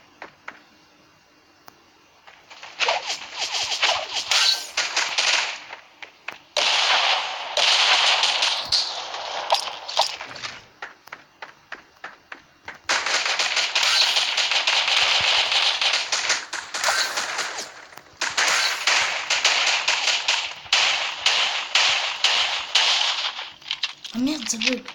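Explosions and gunfire crackle in a Fortnite-style Creative Destruction match, with a grenade blast among dense bursts of snapping, crackling reports that run for long stretches and break off briefly.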